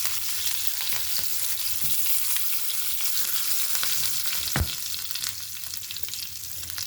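Cumin, mustard seeds, dried red chillies and curry leaves crackle and sizzle steadily in hot oil, a dense continuous frying hiss with scattered pops and one sharp louder spatter partway through.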